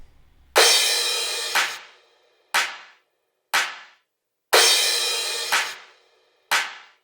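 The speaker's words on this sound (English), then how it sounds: "We have some crashes here as well." Crash cymbals in a synth pop rock track ring out loud and bright, two long washes each followed by shorter hits, alternating in a steady pattern with clean decays.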